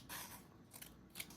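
Scissors snip through sticker paper, three quick quiet crisp cuts close to the ear over a soft background hiss.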